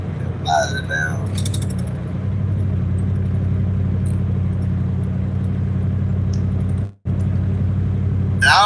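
Steady low rumble of a car driving along a road, heard from inside the cabin, continuous with a brief dropout near the end, while a person talks over it.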